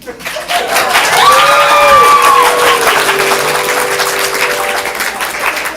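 Audience at a ComedySportz improv comedy show in Portland breaks into loud applause and cheering, a dense crowd wash with a drawn-out whoop rising above it near the start, sustained to the end.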